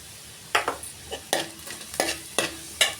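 A spoon stirs jowar grains roasting in a pan, giving sharp scraping strokes roughly every half second over a faint, steady sizzle at close range.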